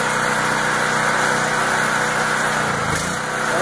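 A DuroStar DS4000S gas portable generator runs on half choke as a loud, continuous buzzing engine drone close by. It holds steady with a slight dip near the end.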